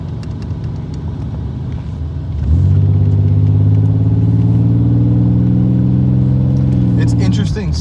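A 1988 Oldsmobile Cutlass Ciera engine at full throttle, a loud, steady drone that jumps up abruptly and holds a strong, even pull for several seconds inside the car.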